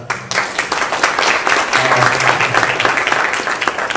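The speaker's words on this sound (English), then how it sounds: "I just want to give him a round of applause for that." A round of audience applause at a community resource event for families with autistic children, clapping swelling quickly after a brief quiet start and holding loud and dense, with a voice briefly heard under it.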